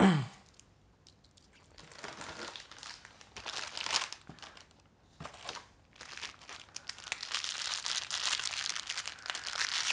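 Cardboard and plastic packaging around an AOC C24G1 monitor stand is sliced and pulled open close by, with crinkling, scraping and tearing bursts that grow denser toward the end.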